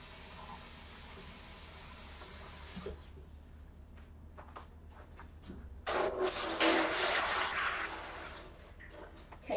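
Tap water runs into a pot to fill it for yarn dyeing: a soft hiss at first, a quieter stretch with scattered splashes, then a louder, fuller gush of flowing water.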